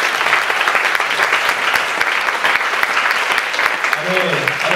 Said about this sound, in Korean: 우리 한 번 더 하나님께 영광의 박수를 드리십시오.